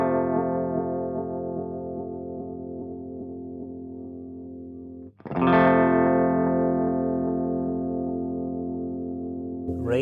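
Sustained electric guitar chord run through a Microdose phaser pedal with reverb disengaged, a swirling, distorted tone ringing out and slowly decaying, then a second strummed chord hitting loudly midway and sustaining to the end.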